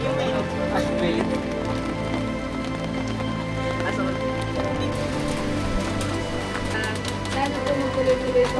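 Steady rain falling on a mountain trail on Mt. Madjaas, a dense continuous patter with scattered nearer drops, loud and unbroken throughout.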